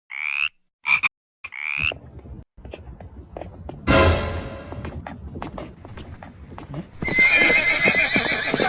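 A horse gives loud, clear neighs in short bursts, with hooves clopping and a scuffle in between. A longer, louder stretch of whinnying and hoof noise comes near the end.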